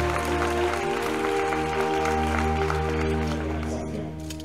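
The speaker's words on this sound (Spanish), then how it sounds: "Un fuerte aplauso para el Calentán." An audience applauds at a Battle of Carentan reenactment event in Úbeda, steady clapping mixed with a loudspeaker voice and a background hum.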